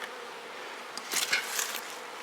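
Bees buzz steadily around a beehive, a constant close hum that swells briefly midway as a few insects pass near.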